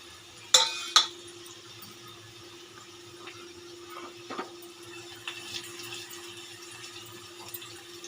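Fenugreek seeds and spices stirred in a hot pan for a pomfret saar: a couple of sharp scrapes near the start, then quiet sizzling with occasional light clinks, no talking.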